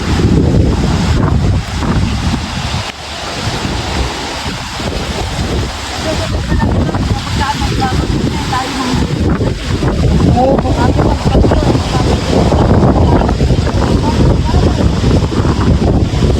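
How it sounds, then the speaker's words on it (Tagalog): Strong wind roars and buffets the microphone nonstop, with a low rumble of water or waves beneath it and no clear voices, during a storm on a river. "Oh, lakas ng hangin."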